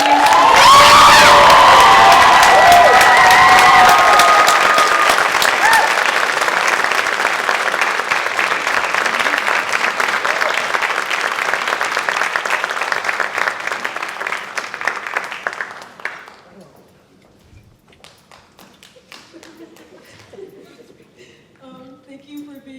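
Loud applause with cheering and whoops from the audience at a high school spring chorus concert, sustained for about fifteen seconds before fading into quiet room murmur.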